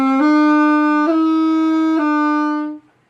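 Saxophone plays a slurred phrase, tongued only on the opening A, then three smooth connected notes held steadily and evenly, loud and close, with the last note fading to silence.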